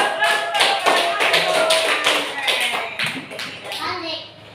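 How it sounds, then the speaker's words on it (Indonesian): A group of children claps hands in quick, uneven bursts, with young voices chattering through the applause. "Kita beri tepuk tangan dulu."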